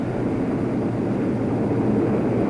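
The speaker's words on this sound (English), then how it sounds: "Here comes the Luftwaffe. In dozens of flights, hundreds of planes" World War II German Luftwaffe bombers and fighters fly overhead, producing a steady, low, rumbling propeller-engine drone that holds at an even, moderate level throughout.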